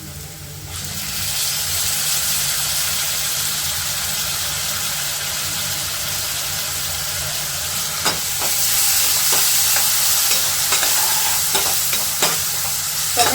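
Chopped tomatoes sizzle with onions in a hot pan, a loud, close, continuous hiss with occasional scraping stirs and clicks of the spoon growing more frequent toward the end.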